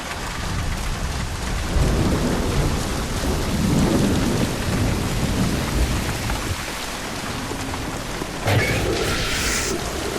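Heavy pouring rain drums steadily in The Bureau: XCOM Declassified while low rolls of thunder rumble underneath, with a sharper crack of thunder near the end.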